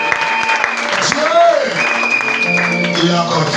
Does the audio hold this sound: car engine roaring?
no